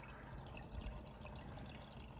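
Water sheeting over the weir of an external overflow on a 180 gallon aquarium, drawing air in; a steady, fairly quiet rushing trickle with gurgling bubbles and no talk.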